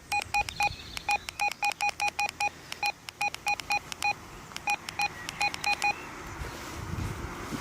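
Rapid electronic keypad beeps from a Retevis RT87 handheld radio in quick bursts, two-tone blips repeating irregularly over faint background hiss, then stopping near the end.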